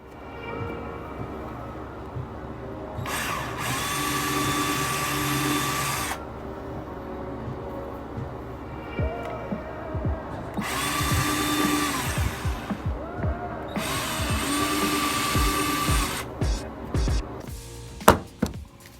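A power drill whirs in repeated loud bursts while fitting bumper plugs on a 2022 Dodge Challenger R/T Plus, with quiet clicks and handling noise between runs and a few sharp knocks at the end.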